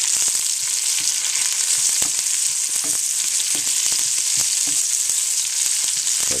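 Fresh wild ramps and their bulbs frying with onions in a pan give off a loud, steady sizzle that runs the whole time. Scattered pops and stirring clicks sit on top of it.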